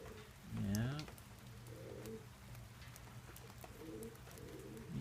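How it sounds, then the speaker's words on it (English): A blind pigeon coos outdoors in the rain: one loud, close, rolling coo early on, then softer low coos recurring over a steady patter of rain. A person speaks quietly in the background. "No, this is Lucky, the blind pigeon, outside in the rain"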